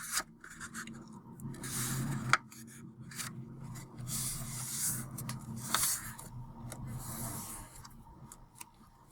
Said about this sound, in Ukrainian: Беремо листок, складаємо листок вдвічі.